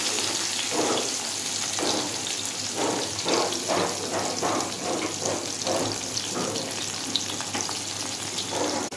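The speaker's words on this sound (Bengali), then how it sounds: "পেঁয়াজ ভাজা হয়ে গেছে" Chopped onion with a pinch of black cumin fries steadily in a pan, a continuous close sizzle with rhythmic bursts of spatter and stirring throughout, no talking.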